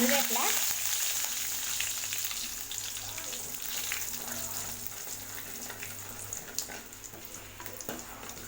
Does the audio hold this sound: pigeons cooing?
no